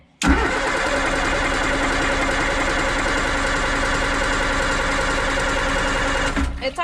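An engine cranks and catches right after fuel is poured in, then runs at a loud, steady, rumbling idle for several seconds up close before cutting off near the end, with no one speaking over it.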